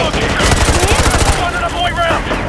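Rapid automatic gunfire in Call of Duty Modern Warfare 2 Remastered, a dense loud burst of shots rattling continuously with a voice talking over it.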